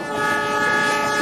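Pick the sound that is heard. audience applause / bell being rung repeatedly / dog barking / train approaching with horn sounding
train approaching with horn sounding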